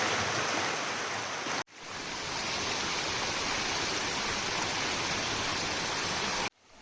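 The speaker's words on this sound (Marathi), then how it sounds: "सुरगडचा पाण्याच्या प्रवाहात" Loud, steady rushing water fills the scene, a constant roar of a flowing stream close by while walking through it at Surgad fort, with brief cut-offs.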